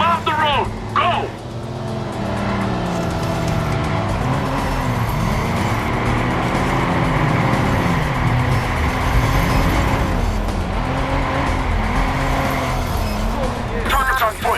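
Car chase in the video game Watch Dogs, engines revving and droning close up with shifting pitch through gear changes and brief tire squeals, steady and loud, with game voices talking over it.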